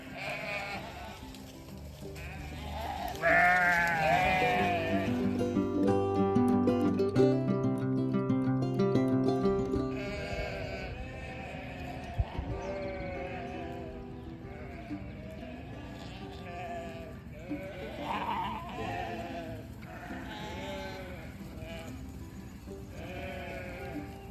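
Sheep bleat repeatedly, several animals calling over one another at close range, with some rustling and movement between calls.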